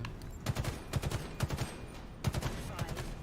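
Rapid gunfire from Halo Infinite multiplayer, bursts of shots crackling in quick clusters with short gaps between volleys, loud and continuous over game noise, no talking.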